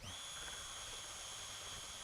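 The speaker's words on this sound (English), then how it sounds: "I like to reverse the direction of the drill" A power drill whines steadily and close while mixing StreetBond coating product with its direction reversed, a high continuous tone over a rough, churning hiss with no voices.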